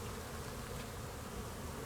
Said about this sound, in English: all of these bees are coming back to the hive right now, and they're coming back with their legs packed with pollen